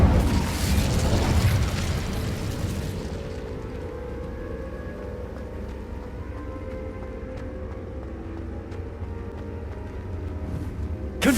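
Incendio fire spell cast in Hogwarts Legacy, a loud broadband whoosh and burst at the start that settles into a sustained low rumbling roar, with game ambience continuing underneath.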